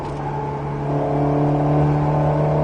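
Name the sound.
Alpine A110S car accelerating on Nogaro track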